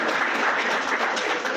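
An audience at a school staff retirement farewell ceremony applauds in a dense, steady wash of clapping that carries evenly at moderate volume with no voices over it.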